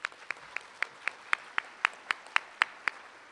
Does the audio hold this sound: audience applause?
yes